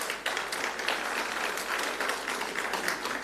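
An audience at a BRICS vocational-education presidents' forum seminar claps in steady, dense applause that fills the hall evenly from start to finish, with no voices rising above it.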